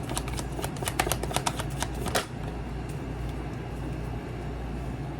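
A deck of tarot cards is riffle shuffled up close, a fast run of crisp flicking clicks that ends in a sharp bridge, then quiet rustling over a low steady background hum.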